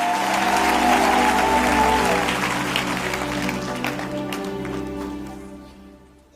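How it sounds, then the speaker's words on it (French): Church congregation applauding together, a loud sustained round of clapping that gradually fades away toward the end. "maintenant tu peux acclamer et t'asseoir"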